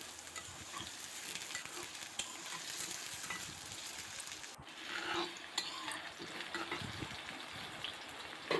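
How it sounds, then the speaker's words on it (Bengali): Pieces of young bottle gourd fry in hot oil until lightly browned, giving a continuous close sizzle with occasional soft clinks of a utensil and no voices. "লাউয়ের টুকরোগুলিকে বাদামি করে ভেজে নিচ্ছি"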